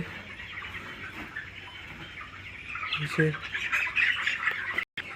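A crowded flock of broiler chickens, about eighteen days old and fluffed up against winter cold, lets out scattered squawks and chirps that grow busier toward the end, while people talk nearby.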